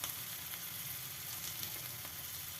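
Green chillies and onion fry over a low flame in a small kadai, giving a steady soft sizzle with faint crackles and occasional stirring, quiet and close, with no talking.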